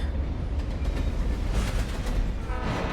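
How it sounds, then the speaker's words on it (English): A train approaches in the video game Alan Wake Remastered, a steady, loud, broad rumble and rattle that holds without pause and with no voices over it. "Oh god, there's a train coming."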